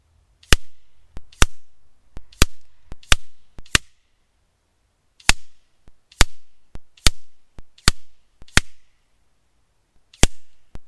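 Repeated shots from an FX Impact M3 air rifle tuned to about 960 fps ring out as sharp, loud cracks, roughly a dozen in uneven groups with short quiet gaps.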